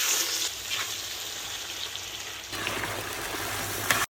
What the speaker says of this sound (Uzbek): Kartoshkalarimizni tillarangli qizartirib olamiz.